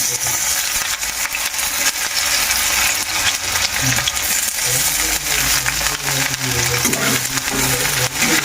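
Chopped onions dropped into hot oil fry with a steady, loud sizzling hiss that runs unbroken, with faint music underneath.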